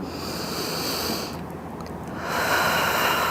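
Close breathing during a pelvic floor and intimate muscle workout: a long airy exhale, a brief quiet pause, then a louder breath in, with no voice over it.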